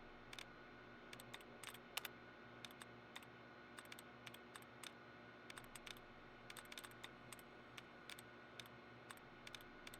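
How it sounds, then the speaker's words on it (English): Quiet, rapid ticky keyboard clicks from a hacking terminal in the video game Fallout 3, irregular bursts of tapping over a steady low background hum, with no talking. "I also love the ticky tappy keyboard noises"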